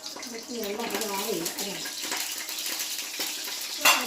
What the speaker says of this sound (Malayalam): വെള്ളം പൊട്ടിത്തെറിക്കുന്നത്